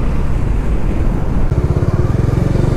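A motorcycle is ridden slowly along a road, its loud, close engine drone steady and throbbing, mixed with rushing wind.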